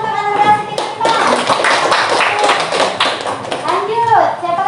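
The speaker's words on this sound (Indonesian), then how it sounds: "tepuk tangan untuk Ananda Siti Fatimah" Students in a classroom clap for a classmate, a close burst of quick, uneven hand claps with taps and thumps, under children's chatter and a teacher's voice.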